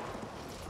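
Horse hooves clip-clop in the World War I shooter game Battlefield 1, a brief close run of dull rhythmic thuds over a busy game background with no talk.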